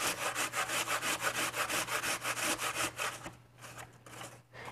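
Juicy apples are rubbed against a large grater in a home kitchen, a steady rhythm of rasping strokes about three per second that fades out near the end, close and clear with no talk.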